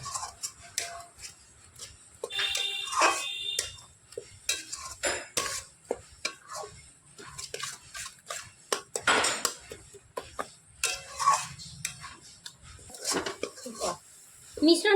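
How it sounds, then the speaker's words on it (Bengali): A spoon scrapes and knocks around a kadai while coconut laddu mixture is stirred, giving irregular close clinks and taps, with a voice talking at times. "সব কিছুকে এবার নাড়াচাড়া করে খুব সুন্দর করে মিশিয়ে আমি একটা ডোর মতো করে তৈরি করে নেব।"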